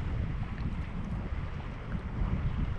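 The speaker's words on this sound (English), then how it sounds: "It's chilly, nice wind." Steady wind buffets the microphone outdoors on a chilly January day of fishing, a dense, continuous low roar with no talking.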